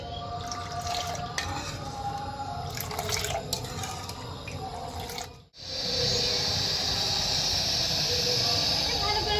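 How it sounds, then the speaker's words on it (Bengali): Sugar syrup boils in a pan with cardamom pods added, giving a steady close hiss and bubbling that briefly drops out and then returns louder and more sizzling; a voice speaks faintly at the start. "এবার আমি চিনিটাকে ভালো করে জাল করে একটা শিরা তৈরি করে নেব।"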